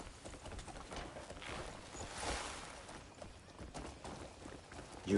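Horse hooves clip-clop at a gallop in the video game Crimson Desert, a steady drumming of footfalls under a dense, noisy game soundscape with no distinct talk.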